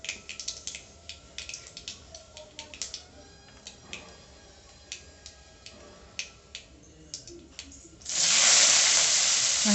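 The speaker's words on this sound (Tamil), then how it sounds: "வெங்காயம் சேர்த்து நல்லா வதக்கிக்கலாம்." Chopped onion and garlic go into hot oil with mustard seeds for egg rice, starting with scattered sharp pops and crackles, then a loud, continuous sizzling hiss bursting in near the end.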